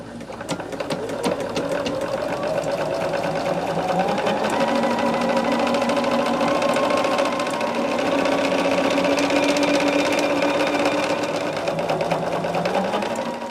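A sewing machine stitches a cotton quilt block's wheel piece in one long continuous run, its motor whirring and needle chattering steadily up close and loud, with no talking.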